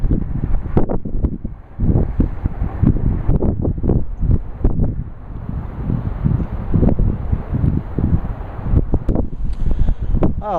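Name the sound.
wind blowing outdoors by San Francisco Bay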